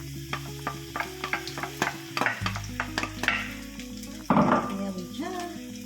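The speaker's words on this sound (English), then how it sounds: "my cooking oil is hot. It's hot. So let me put on my garlic." Garlic goes into hot cooking oil and sizzles, with a sharp burst of frying partway through, surrounded by clinks and stirring taps of a utensil against the pan; no one speaks.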